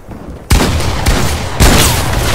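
Gunfire in Fortnite, three sharp, loud shots striking at roughly one-second intervals, each leaving a dense rolling roar that carries on to the next, close and dominant over the game sound.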